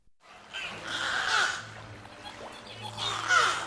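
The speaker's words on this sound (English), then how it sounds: "Chirps, whistles, and clicks fill the beluga habitat at SeaWorld San Antonio" Beluga whales in a habitat at SeaWorld San Antonio, two bursts of high chirps and squeaky whistles with scattered clicks over a low hum, fairly close.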